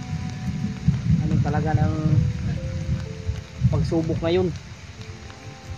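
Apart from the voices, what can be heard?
rain falling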